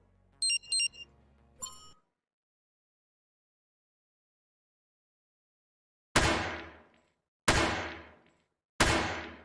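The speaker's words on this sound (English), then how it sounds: "You hear the little splat sound when you get shot." Three identical sharp splat hits land about a second apart in a video game, each decaying quickly, after a few brief electronic tones and a long silence.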